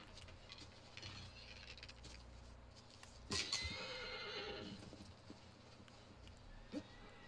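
A horse in Shadow of the Colossus gives a short neigh over faint ambient game sound, followed by soft scattered hoof and movement noises at moderate distance.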